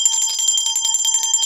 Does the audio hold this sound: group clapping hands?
no